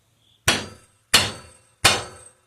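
A homemade hammer taps a seized air compressor pump gently: three crisp, close, metallic knocks spaced evenly over about two seconds, each ringing out briefly into silence.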